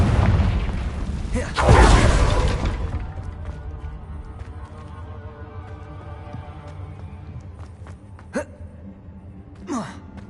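A Confringo blasting spell exploding in Hogwarts Legacy: a loud, booming burst close by that rumbles and fades over a few seconds, followed later by two sharp, short whooshing pops.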